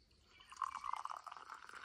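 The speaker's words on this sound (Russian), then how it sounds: "Наливаем стакан." Homemade herbal flower tea poured into a glass: a brief, faint trickling stream with a soft rising fill, close and quiet, no talking.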